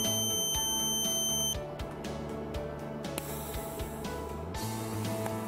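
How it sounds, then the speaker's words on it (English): The small internal battery-cooling fans of a LifeChoice portable oxygen concentrator whir in a steady electronic hum nearby. A few high beeps sound at the start, and no one speaks. "That sound is the internal fans that keep the LifeChoice battery cool."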